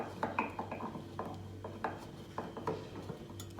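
A screwdriver works a screw loose in an awkward, cramped spot, giving a series of short ratcheting clicks and scrapes at an uneven pace, close and moderately loud.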